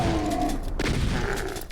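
Gunfire in the video game Doom 2 rings out in a short burst of blasts, with a sharp crack partway through, over game ambience.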